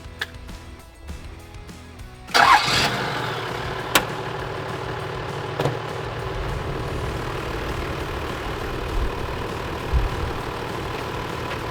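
A Tyrex portable air compressor with a modified setup starts after a quiet moment with an abrupt burst, then runs as a steady mechanical hum with occasional small clicks and knocks.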